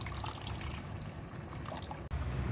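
Water is poured into a pan of sautéed potatoes in a chili garlic ketchup and honey sauce, a soft continuous trickling splash, faint and close, with no voices, cutting out briefly near the end.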